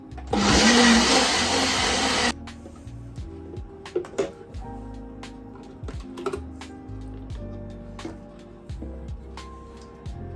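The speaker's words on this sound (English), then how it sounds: "which I know with the stick blender I tend to miss it" A stick blender purees a thick feijoa BBQ ketchup sauce in a loud, close whir lasting about two seconds, then cuts out, leaving scattered clicks and light knocks.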